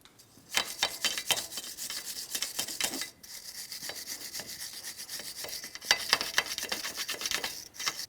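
Wire brush scrubbing rust off the wheel bearing hub of a 2007-2014 GMC Sierra 2500 HD, a close, steady rasping that runs in busy bursts with a short pause midway and no talk.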